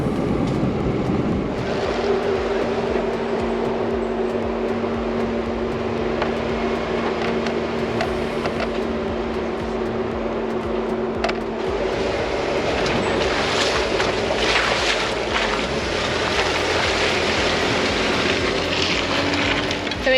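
A van cruising at about 70 km/h along a wet-season Cape York road in Australia, a loud continuous engine and road drone with a steady tonal hum and broadband rumble throughout, no talking.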